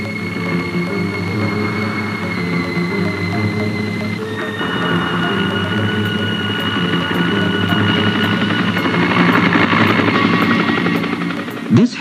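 A helicopter hovers over a quick-clay landslide scarp in the evening, its rotor drone and engine whine steady and loud throughout.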